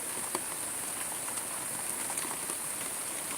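Rain falls on an October night in Italy, a steady, soft patter spread evenly throughout with a few faint drips standing out and no voices.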